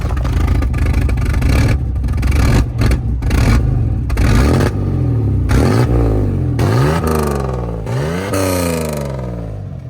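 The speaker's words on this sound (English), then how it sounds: "I think we got a misfire going on here" A Chevrolet Camaro engine running with a misfire roars loudly and close, sputtering and stumbling through uneven revs with choppy, rising and falling bursts.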